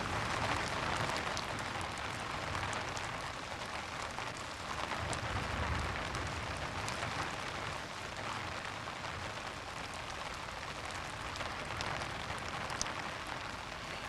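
Steady rain patters continuously on surfaces outdoors, a dense hiss of drops with no voices, evenly loud throughout.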